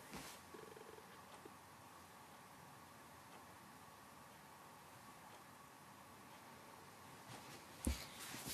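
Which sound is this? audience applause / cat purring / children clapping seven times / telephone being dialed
cat purring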